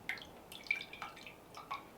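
Water drips from a soaking-wet moss pole for houseplants, a handful of separate wet drops and splats falling at an irregular pace, close by, with no talking.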